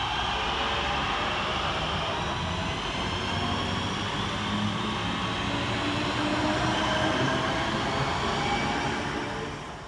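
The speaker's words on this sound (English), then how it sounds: "here comes our train in the form of 319361" A Class 319 electric train rumbles steadily nearby as it arrives at Huyton station, a continuous loud rolling noise with wheel and rail hum throughout, easing slightly at the very end.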